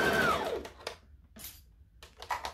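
Sewing machine stitching while sewing a Simplicity 1801 pattern, a short whirring run that winds down quickly, followed by a few faint mechanical clicks and rustles close by.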